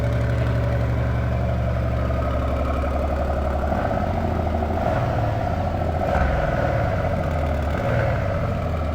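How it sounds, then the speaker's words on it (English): A Bentley Continental GT Speed First Edition idles nearby, its engine a loud, steady low rumble that holds evenly throughout with slight shifts in tone. "let's start the video by hearing how this beautiful car sounds"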